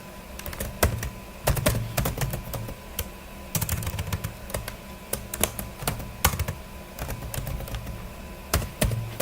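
Close computer keyboard typing while Solidity code is written, with bursts of sharp clicking keystrokes in uneven runs and short pauses, no voices.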